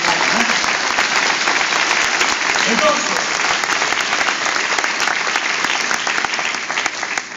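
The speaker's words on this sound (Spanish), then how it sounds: "dame un fuerte aplauso" A church congregation gives loud, sustained applause, a dense continuous roar of clapping close by, with a brief spoken word near the start and some voices mixed into the crowd noise.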